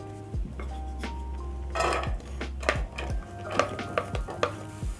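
Onions frying in about two tablespoons of hot oil over a medium flame for a green peas curry, repeated spatula scrapes and clinks against the pan over a soft sizzle and low burner hum.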